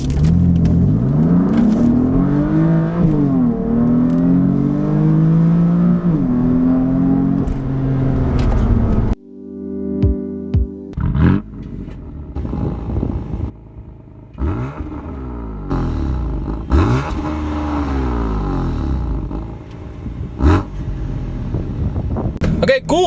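A BMW F80 M3 running a Bootmod3 CS map sits on a dyno, its engine droning and rising in pitch as it revs, then dropping off. Several loud whooshes and bursts follow, mixed with some talk.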